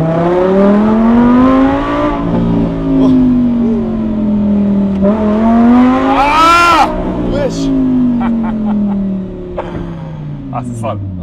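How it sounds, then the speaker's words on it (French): A car accelerates hard, its engine note climbing and dipping through gears in a loud, close, continuous roar while people talk over it inside. "On va faire une petite accélération, tu vas me donner ton avis."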